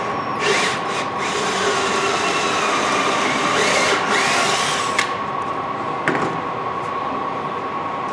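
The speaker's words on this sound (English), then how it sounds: "Now I'm going to locate these holes in the bottom board by drilling through the holes" A power drill runs steadily up close, its motor whining continuously with bursts of grinding as it bores through a wooden board.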